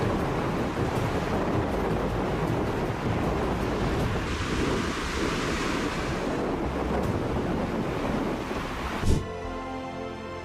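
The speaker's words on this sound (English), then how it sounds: "The waves crashed powerfully, washing everything clean, leaving not a grain of salt behind." Heavy ocean surf pounds against a lighthouse off the coast of Nazaré, Portugal, a loud continuous roar mixed with wind buffeting the microphone, with a sharp crash near the end.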